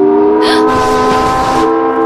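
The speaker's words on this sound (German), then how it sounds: "Plötzlich ertönt die Zugpfeife." A train whistle sounds aboard a train in an animated children's adventure, a loud, sustained chord-like blast that holds steady for about two seconds with no talking.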